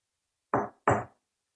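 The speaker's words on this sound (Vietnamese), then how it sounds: "Tiếng gõ cửa lại vang lên nhẹ nhàng rồi bỗng im bặt" Two firm knocks on a bathroom door, close and distinct, separated by a brief pause and followed by silence.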